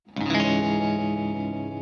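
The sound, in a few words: electric guitar with tremolo and reverb effects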